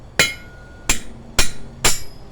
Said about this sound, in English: take your hammer, whack it to undo it.